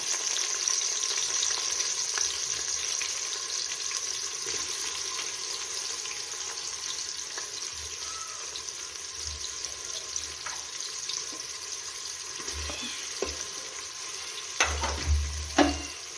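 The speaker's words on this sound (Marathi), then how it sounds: "चिमुडभर शहाजिरे त्याचसोबत टाकून घेऊया चिरून घेतलेला कांदा" Chopped onion and shahjeera fry in hot oil with a constant close hiss and a few light knocks of a spoon toward the end.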